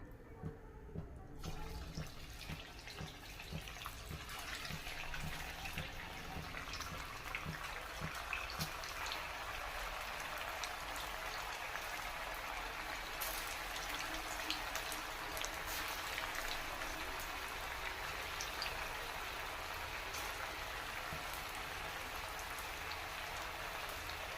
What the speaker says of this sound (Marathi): आता मिश्रणातलं थोडं थोडं मिश्रण घेऊन तेलामध्ये सोडूया